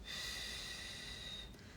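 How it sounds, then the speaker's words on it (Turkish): Close, quiet breathing in through the nose with a soft airy snort-like rush, tapering off near the end as the exhale begins; no speech. "Burnumuzdan nefes alıyoruz ve ağzımızdan veriyoruz."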